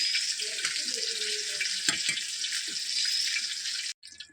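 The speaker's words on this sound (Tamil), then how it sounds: "ஒரு மூணு நிமிஷம் வறுத்தா போதும்" Fish frying in a pan for a masala curry, with a steady broadband sizzle under occasional soft stirring clicks, cutting off abruptly near the end.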